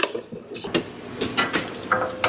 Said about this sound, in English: just keep stirring that. It's in a low heat, so just gonna keep stirring that